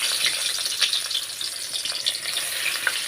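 Fritters of dried hilsa fish and onion frying in a small amount of oil, a steady close sizzle and crackle that continues without pause.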